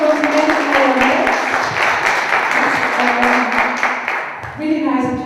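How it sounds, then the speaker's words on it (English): Audience clapping warmly for a debate panel and judge, a dense burst of applause that holds steady and then thins out near the end as a voice begins speaking. "So big applause that you are here."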